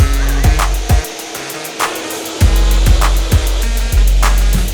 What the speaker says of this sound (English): So this thing is orbital concrete grinder